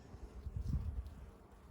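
Honey bees from a newly installed swarm in a top bar hive buzzing close by, a steady low droning hum with soft rustling of bees on comb.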